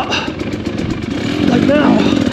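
A trail motorcycle revs up while trails are being cleared, giving a close, throaty engine rise under a voice.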